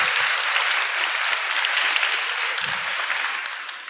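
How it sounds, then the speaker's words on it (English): A crowd of women at a conference closing breaks into sustained applause, a bright, dense clatter of many hands that holds steady and thins slightly toward the end, with no talking over it. "So please, ladies, give applause, a round of applause to yourselves as well,"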